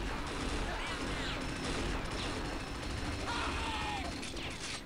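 Turret gunfire in the video game Unreal Tournament, a dense continuous rattle of shots and whizzing projectile sweeps under a steady loud game din.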